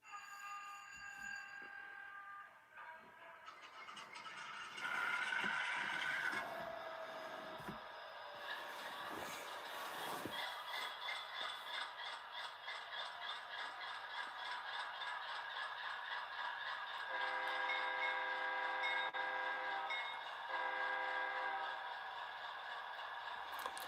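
An HO-scale model diesel locomotive starts up, with a rising mechanical rumble, a steady chugging engine drone and repeated tonal warning sounds. No voices.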